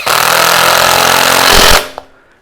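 A power drill drives screws into a wood bowl blank for turning, one loud continuous whirring burst lasting under two seconds, then a brief click as it stops.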